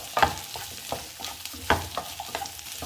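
Capsicum cubes and green chillies sautéing in a pan for chilli chicken, a soft sizzle broken by several sharp stirring scrapes of a spatula, close and fairly quiet.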